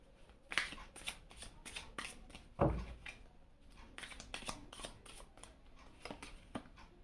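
Tarot cards are shuffled close by in a quiet room, giving a run of soft riffling flicks and taps with two sharper slaps along the way.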